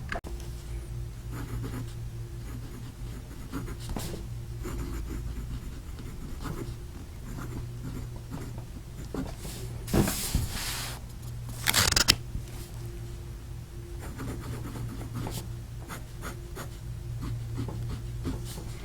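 A Wing Sung 2007 fountain pen nib, loaded with Robert Oster ink, scratches softly across paper in repeated close strokes, with a couple of louder rustling bursts of paper handling midway.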